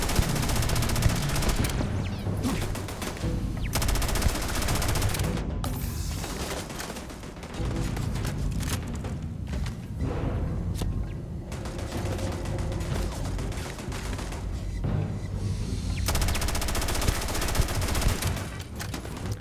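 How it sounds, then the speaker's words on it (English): Automated turret gunfire in the video game Starfield, dense rapid bursts of shots and mechanical clatter nearly continuous and loud, with brief gaps between volleys over game background noise. "that sounds like a turret"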